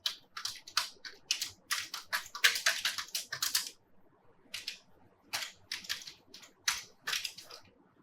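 Python code being typed on a computer keyboard: close, sharp keystrokes in fast clusters separated by short pauses, heard alone without talking.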